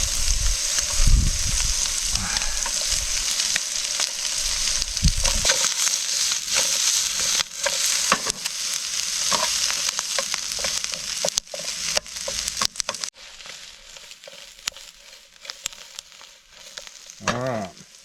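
Onion hitting a hot pan and frying with a loud, dense crackling sizzle, punctuated by stirring scrapes and sharp pops, the frying easing and growing sparser toward the end.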